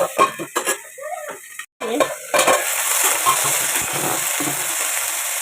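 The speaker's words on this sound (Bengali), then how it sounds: "এবার আমি এই যে কেটে রাখা আলুটা দিয়ে দেবো। একটু ভালো করে 2 মিনিট নাড়াচাড়া করে নেবো।" Cut potatoes tossed and stirred in a hot pan, starting with a few scrapes and clinks of a utensil, then a short silence before a continuous, fairly loud frying sizzle takes over.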